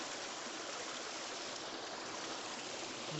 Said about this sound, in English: But overall, this stream has become shallower